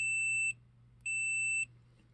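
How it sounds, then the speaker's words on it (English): Multimeter continuity beeper sounding as its two leads are touched together, two clean steady high beeps of about half a second each with a short gap, over a faint low hum. "You can take the two leads, touch them, just make a beep."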